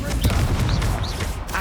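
An Incendio fire spell goes off in the Hogwarts Legacy video game, a dense, loud crackling burst with booming impacts layered over busy game sounds for under two seconds.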